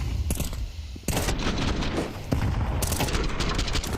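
Bursts of rapid Counter-Strike gunfire crack out in dense volleys during a professional esports match, loud and close.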